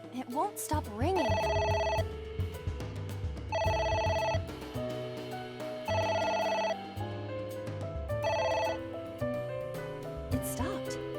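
A phone in AI: The Somnium Files keeps ringing with regular bursts of a bright, buzzy electronic tone, prominent and close, while music and occasional speech run underneath.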